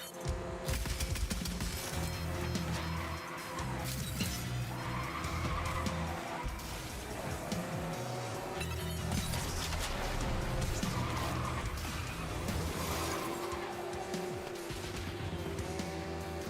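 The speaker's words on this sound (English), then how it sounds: "This car does like to drift though." Car engine revving in the video game Carmageddon, with sustained tire squeal as the car drifts, loud and continuous with shifting pitch throughout.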